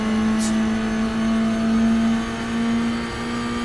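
A race car engine in the iRacing simulator holds a steady, sustained drone with a constant pitch, droning on at a moderate level throughout with no talk over it.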